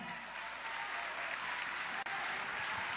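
A church congregation applauding together, a dense continuous wash of clapping that stays loud and even throughout with a brief dip near the end.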